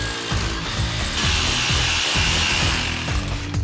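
A power tool grinds and chatters while cutting a large flue-pipe hole for a stove, with a steady rhythmic rasp, loud and close, running continuously without pause.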